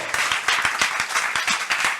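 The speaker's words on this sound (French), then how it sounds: "on peut encore les applaudir très fort" Audience applause at a festival awards ceremony, a short burst of many hands clapping in quick irregular rhythm, fairly close and sustained.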